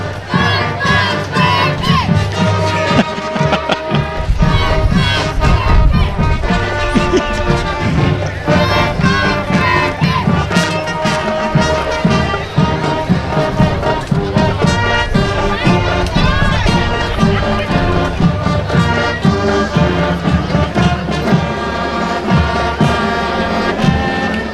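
A young ladies' marching band plays in a strawberry festival parade in West Tennessee, loud brass melody with steady drum beats, continuous and close, with crowd noise and cheering in the background.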